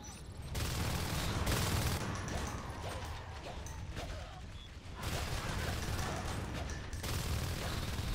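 Machine gun fire in the video game Natural Selection 2 rattles in dense, sustained bursts, loud and close, broken by a couple of short pauses between volleys.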